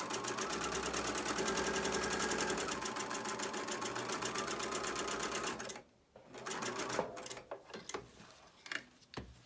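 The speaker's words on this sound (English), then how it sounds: "then sew that side." A sewing machine stitches a quilt block seam at a steady, fast mechanical rhythm, then stops briefly and restarts in short bursts of stitching, close and alone.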